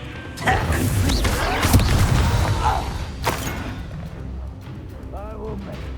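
A Confringo spell blast in Hogwarts Legacy, a sharp explosive burst with crackling debris and thuds amid combat effects, followed by quieter magical shimmering, with voices speaking over the action.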